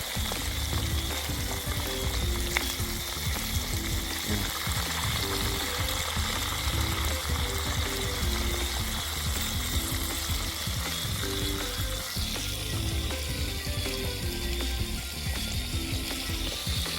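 Fish frying in hot oil, bonito steak slices, during a catch-and-cook in Ocho Rios, Jamaica: a steady, dense sizzle and bubbling crackle runs throughout, close and fairly loud, with occasional low clunks underneath.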